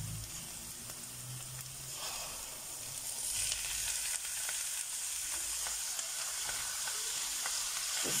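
Sweetcorn added to softened onions sizzles and crackles in a hot pan, a steady close frying hiss that grows louder as the kernels are stirred.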